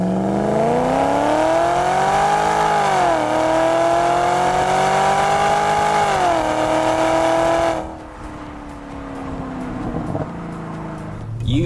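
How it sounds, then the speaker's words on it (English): BMW E39 540i sedan with the M62 TU V8 engine revving, a loud, smooth, deep engine tone rising and falling through two rev sweeps, then dropping back toward idle as the revs settle. "with the M62 TU, the way it revs and the way it sounds is beautiful"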